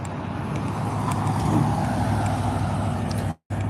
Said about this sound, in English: they put a kit under their car, under their motorcycle, under their truck, so it can sound noisier.